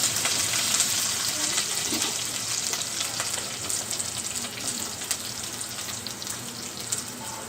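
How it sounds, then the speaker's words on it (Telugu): Curry leaves frying in hot oil for Bombay rava upma, a dense, continuous sizzle and crackle close up throughout. "కరివేపాకు వేసుకోవాలి. ఇది కొద్దిగా వేగినాక"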